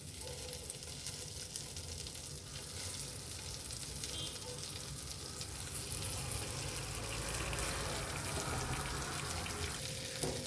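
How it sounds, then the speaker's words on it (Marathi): Paneer tikka pieces with capsicum and onion sizzle steadily in melted butter in a pan, a loud continuous frying hiss close up that holds throughout with no talking. "आता मी याला फ्राय करणार आहे."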